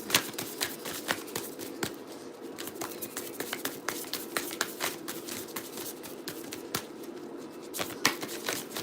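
African Goddess Rising oracle cards being shuffled by hand, a continuous close, soft flutter of riffling card snaps and slaps.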